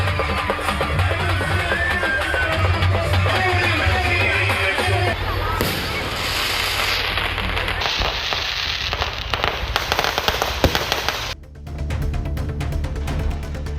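Fireworks display bursting at a temple's Chithirai festival celebration, a dense continuous crackle and popping of aerial shells and firecrackers with no pauses, loud and close throughout.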